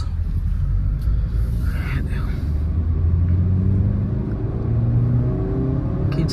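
Suzuki Fronx 1.2 petrol car engine pulling steadily while accelerating on the road, a low continuous rumble with road and cabin noise throughout, close and moderately loud.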